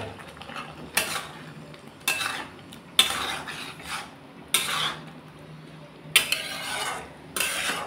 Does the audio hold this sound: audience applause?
no